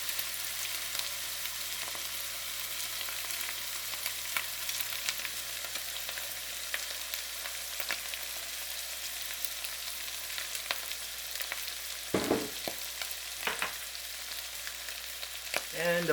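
Chicken garlic butter fried rice frying in a pan gives a soft, steady sizzle. Intermittent scrapes and clatters of stirring come through, with a few sharper knocks near the end.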